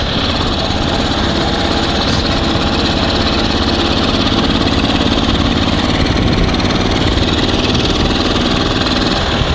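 A Ural (Dnepr) motorcycle engine running on only one cylinder after its throttle broke, giving a loud, steady, rough idle with a continuous low rumble that holds throughout.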